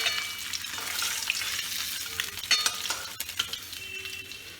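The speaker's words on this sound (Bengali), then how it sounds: "আমার মাছ ভাজা হয়ে গেছে, এবার আমি মাছগুলো তুলে নেব" Snakehead fish sizzles steadily in hot oil while being fried for a curry, with a continuous close crackle and occasional light stirring scrapes throughout.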